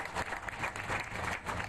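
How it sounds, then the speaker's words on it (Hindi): An audience applauds at a hospital event in Rajasthan, a steady wash of many hands clapping at moderate volume for a couple of seconds. "मेहरबानी करके प्लीज जोर से ताली बजाओ आप लोग"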